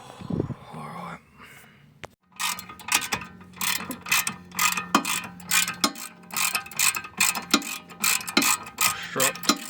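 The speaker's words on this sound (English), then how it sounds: "Strut bolt coming out." Ratchet clicking in repeated bursts while a strut bolt is loosened on a supercharged Honda NSX, close and fairly loud, with short pauses between runs of clicks.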